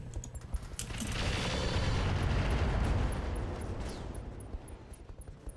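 Rocket packs and missiles fire from an urban mech in a mech combat video game: a loud, dense roaring burst of launches and blasts swells in after a second, holds for about three seconds, then fades to a rumble with scattered thuds.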